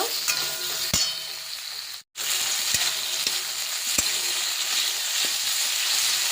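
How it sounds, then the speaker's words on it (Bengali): Small fish fry in hot oil with a loud, continuous sizzle and crackle, a brief break, then steady hissing with occasional spatter pops. "মাছগুলো দিয়ে ভালো করে ভেজে নেব"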